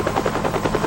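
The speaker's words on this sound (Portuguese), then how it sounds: "Um helicóptero militar adaptado para dar o primeiro combate ao fogo" Military helicopter adapted for first-response firefighting, its rotor beating in a steady rapid pulse, loud and continuous for the whole second with no voices.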